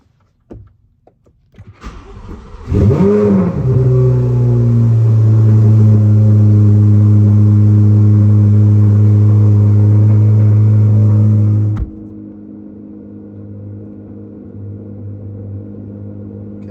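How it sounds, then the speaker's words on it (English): A Chevrolet Corvette C8 Z06 engine cranks and fires up loudly nearby, settling into a steady, heavy rumbling idle for about nine seconds before abruptly dropping to a quieter low hum, with no talking. "And it says to start the car."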